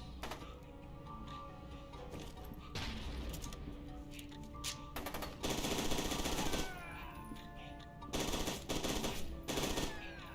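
In the first-person horror shooter F.E.A.R. 2, rapid automatic gunfire comes in loud, dense bursts, with quieter single shots and clatter between the volleys.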